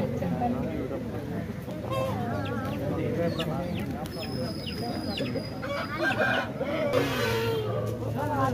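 A rooster clucks at a busy open-air market for native country chickens, its short calls mixed into a steady hubbub of people talking and bargaining nearby.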